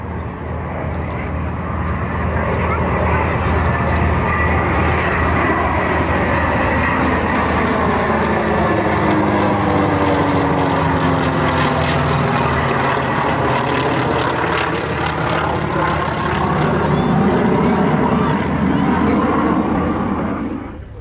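An F/A-18 Legacy Hornet makes a head-on pass at the Camarillo air show, a loud jet roar that builds and sweeps with a falling Doppler pitch as it passes, sustained for many seconds, with crowd and announcer voices faintly beneath.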